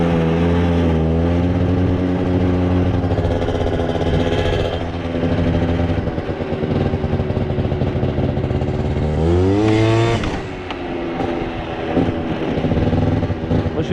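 Small scooter revving hard as the rider pulls a wheelie at about 30 km/h. The engine note climbs in rising harmonic sweeps, dips briefly and then surges up again, loud and close the whole time.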